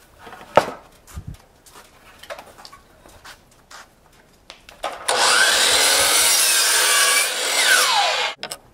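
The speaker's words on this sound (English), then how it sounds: "So I'm gonna cut this board 68 inches long. Miter saw, set it to 25 degrees," A miter saw set to 25 degrees cuts through a wooden board for a ladder, starting with a few light clicks and handling knocks, then a loud, steady whining cut of about three seconds that spins down and stops.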